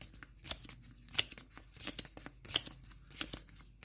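Cards from the Nemesis board game are shuffled by hand in quick, close papery riffles and snaps, irregular bursts of crisp flicking over a few seconds.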